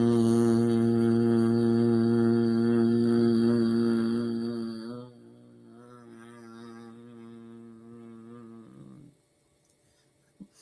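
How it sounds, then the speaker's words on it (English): A sustained voiced hum carried on a long out-breath, steady and loud for about five seconds, then continuing softer and lower before fading to near silence. "and then I'm going to breathe out with a hum."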